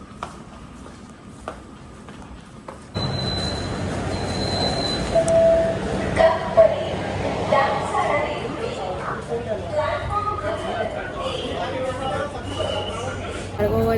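Metro train ride in Mumbai with a steady rumble of the moving carriage, a few squealing wheel tones and rattles throughout, and people talking over it.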